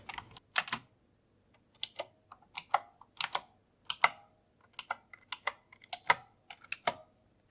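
Keys on a Razer computer keyboard clack in short uneven bursts of typing, crisp and close, each volley separated by brief pauses, with no voices.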